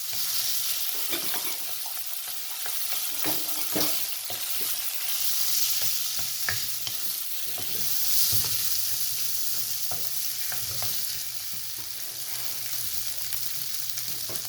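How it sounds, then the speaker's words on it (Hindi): Potato pieces tip into hot oil in a pan for an aloo masala dosa filling and are stirred, giving a steady close sizzle throughout with repeated scraping and clinking of a spoon against the pan. "अच्छा, ये मैं आलू डाल दूँ।"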